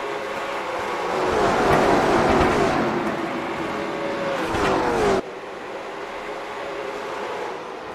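Pavement late model race cars at USA Speedway roar past in a pack, engines whining and revving loudly as they sweep by, then fading to a steadier distant drone after an abrupt drop.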